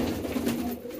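Domestic pigeon cooing close by, a steady low throaty coo running through the moment with no voices.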